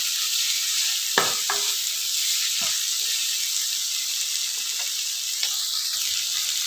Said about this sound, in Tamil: இதை நல்லா ஃப்ரை பண்ணிவிடுவோம்